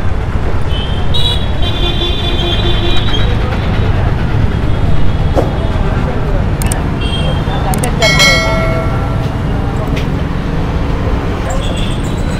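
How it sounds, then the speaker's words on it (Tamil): Vehicle ride through busy Chennai road traffic: a steady loud rumble of engines and road noise, with horns honking several times, in a cluster early on and again near the middle, and faint voices in the background. "வண்டியில் தான் போகிறோம், ஒரு ஷாப்புக்கு தான் போகிறோம்"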